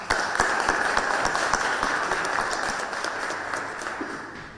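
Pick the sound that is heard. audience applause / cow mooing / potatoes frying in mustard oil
audience applause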